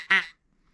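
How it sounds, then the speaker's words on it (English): A single short, nasal quack blown on a gray duck call, loud and close, followed by silence. "that's a gray duck call"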